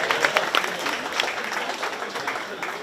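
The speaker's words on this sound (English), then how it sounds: "Let's give them a nice round of applause." Steady applause from a county fair audience in the Shelby County 4H/FFA swine show ring, honoring the swine showmen, with scattered clapping sustained throughout at moderate distance.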